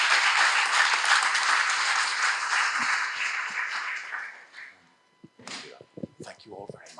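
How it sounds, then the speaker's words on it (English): Audience applause for a panel closing a health security conference session, sustained clapping for about four seconds that tapers off, followed by scattered knocks and handling noises. "Please give our panel a round of applause."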